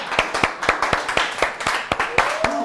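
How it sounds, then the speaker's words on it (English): Brisk clapping, a steady run of sharp hand claps close by at a fairly even pace, with a faint tone sliding in near the end. "Stop clapping for yourself."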